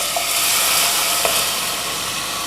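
Blended spicy spaghetti sauce hits a hot pan and sizzles in a steady, bright hiss with a couple of sharp pops, close and loud, no voices over it.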